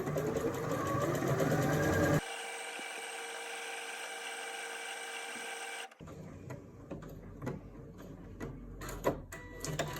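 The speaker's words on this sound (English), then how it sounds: "Pop that down, and then I can just press start stop." A Janome M200 QDC sewing machine with an applique foot stitches in a steady mechanical whir, alone and fairly quiet, with a short earlier burst of busier sound before the machine starts and softer clatter after it stops.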